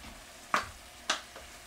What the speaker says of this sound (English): I'm going to throw these noodles into our baking dish.